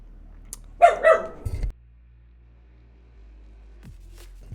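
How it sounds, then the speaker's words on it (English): A dog barks out a window a few times in a quick cluster, moderately close, followed by a low steady hum and near-quiet room tone. "My dog is barking out the window."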